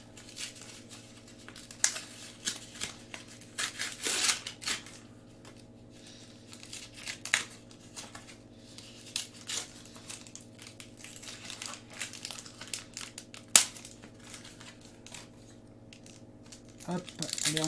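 A Yu-Gi-Oh booster pack of foil wrapping torn open by hand, crisp crinkling and ripping bursts scattered among quiet stretches, close up, with speech in between.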